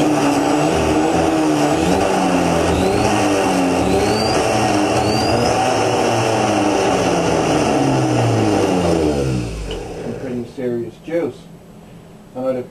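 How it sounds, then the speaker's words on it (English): A BMW EV conversion's electric motor, driven through a liquid-cooled controller, whines loudly under throttle with rising and falling tonal sweeps for about nine seconds, then cuts off, leaving quieter bursts of sound. "we can just give our throttle."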